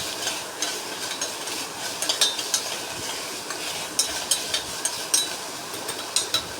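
Onions fry in mustard oil while a spoon stirs them in a pan, a steady close sizzle broken by scattered scraping and clinking taps.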